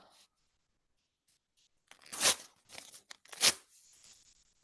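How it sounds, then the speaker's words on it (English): Paper torn by hand in a group exercise: a couple of sharp, ripping tears close by, the loudest near the middle and end, separated by brief quiet. "Now I want you to tear the paper."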